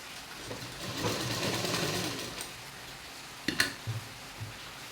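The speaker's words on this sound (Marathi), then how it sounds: "आता हे मी पूर्ण शिलाई करून घेते" A sewing machine stitches the neckline of a V-neck blouse in a short, soft whirring run, followed by a few faint clicks and handling knocks, close and fairly quiet.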